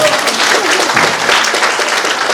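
An audience at a Hindi spiritual discourse with devotional music breaks into loud, dense, continuous applause that fills the hall evenly from start to finish.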